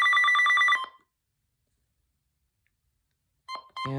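First Alert WX-150 weather radio sounding its alarm tone, a loud, steady pulsing electronic beep lasting under a second, then silence before brief bursts of tone return near the end.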